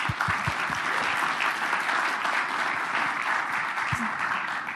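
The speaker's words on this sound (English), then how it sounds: "Let's give him a nice hand of applause." Conference audience applauding after a session, a steady, even spread of clapping from a sizable crowd heard at moderate distance, with a few sharper near claps at the start.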